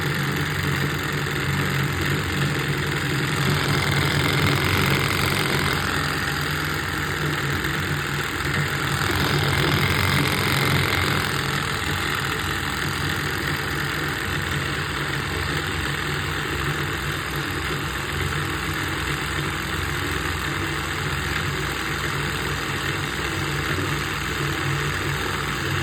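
A small homemade DC motor runs steadily for the whole stretch, a continuous mechanical whir with a slight shaky rattle, close and fairly loud, with no talking.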